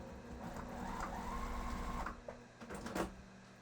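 Sewing machine stitching a zipper pouch, running steadily for about two seconds with a motor hum, then slowing into a few short stitch bursts and clicks near the end.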